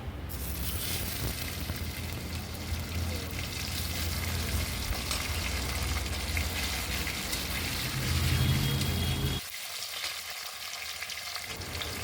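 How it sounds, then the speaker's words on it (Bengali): Whole spices and dried chilli tempering in hot oil for a vegetarian Bengali potato curry, a loud, dense sizzle with occasional stirring that runs steadily and then drops suddenly to a quieter hiss near the end. "ফোড়নটা একটু ভালো করে হালকা হালকা লাল করে ভেজে নেব।"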